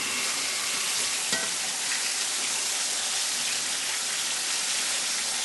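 Catfish pieces frying in hot oil give a steady, dense sizzle that fills the whole clip at close range, with one brief sharp crackle near the middle and no talking.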